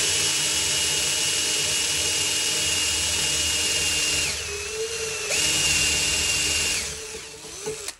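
A power drill bores into a motor shaft with cutting fluid, a loud steady whine with a pitch that dips partway through and a couple of short pauses, near and alone without talk.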